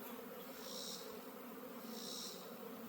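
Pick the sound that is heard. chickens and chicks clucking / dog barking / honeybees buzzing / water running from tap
honeybees buzzing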